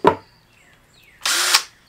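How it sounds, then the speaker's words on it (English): A power drill whirs in one short burst of about a third of a second, close and loud, after a sharp knock and a quiet pause. "Drill."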